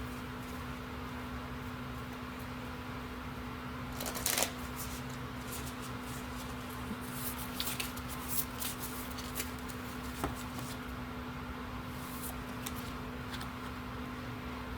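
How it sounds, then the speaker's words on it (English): Oracle cards shuffled and drawn from a deck, soft papery riffles and slides with a few sharper flicks, close and quiet over a steady low hum. "I'm going to pull another card here."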